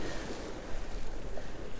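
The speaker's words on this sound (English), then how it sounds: "an absolutely beautiful view from down here on Magaluf Beach" Waves washing onto Magaluf Beach, Mallorca, on a cold winter day, a steady broadband surf wash with soft wind rumble, moderately distant and continuous, with no voices.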